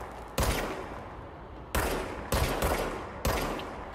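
Four sharp, loud gunshots crack out one at a time with uneven gaps in Control, each followed by a short decaying tail over a low ambient background.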